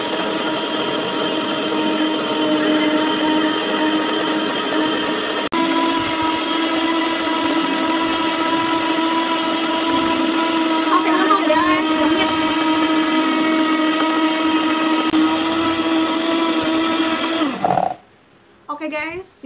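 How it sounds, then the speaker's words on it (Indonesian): A stand blender runs loudly and steadily with a high motor whine while making dalgona coffee, then cuts off near the end, leaving brief quieter handling sounds. "Setelah itu kita blender guys."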